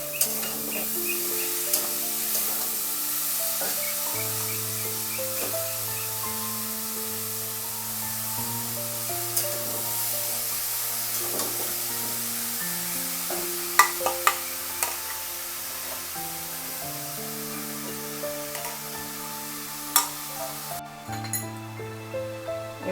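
Banana stem and shrimp sizzle in a pan while being stirred, a steady close hiss with occasional utensil clinks, heard under background music.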